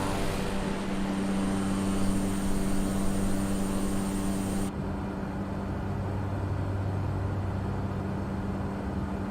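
A Cessna 208 Grand Caravan's turboprop engine hums steadily and evenly inside the MSFS 2020 flight simulator. The drone stays constant and fairly quiet throughout, with no talk over it.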